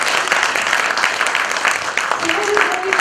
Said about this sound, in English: can we give Peter a really big round of applause?